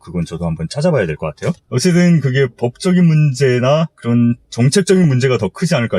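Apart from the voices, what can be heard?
No everyday noise stands out behind the speech.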